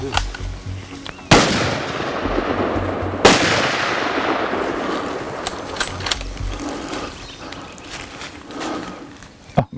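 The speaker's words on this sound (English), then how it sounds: "Shoot him again, shoot him again." Two loud, sharp rifle gunshots during a big game hunt in Tanzania, the first at about one second and the second near three seconds, each leaving a long rolling echo over open outdoor ambience.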